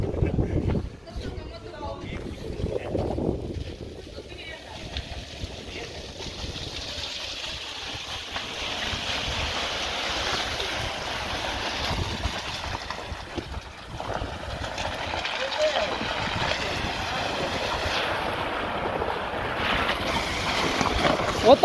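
An off-road vehicle drives into water between reeds, with a steady wash of splashing and engine noise that runs loud and continuous throughout, while people talk over it.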